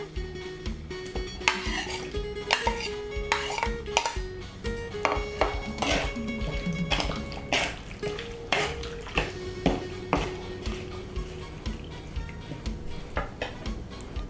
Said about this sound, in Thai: เราก็จะใส่ ไส้ตันลงไปเลยนะคะ